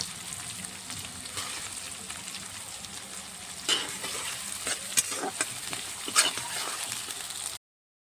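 Chopped onion and green chili sizzle steadily in a hot pan for a red chicken curry, a continuous close frying hiss broken by a few louder spits and stirring scrapes, no talking.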